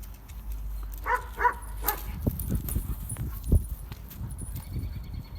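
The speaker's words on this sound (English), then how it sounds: "I'm just playing with the dog." A protection-training puppy barks in short yips and whimpers during play, close and moderately loud, with scuffling and low thumps around it.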